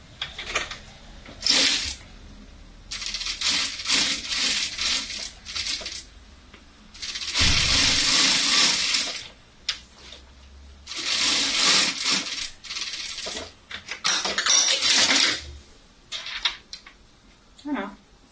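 A sewing machine stitches a small fabric pouch in short bursts of rapid mechanical whirring, separated by pauses with handling clatter, while a person talks in French between runs.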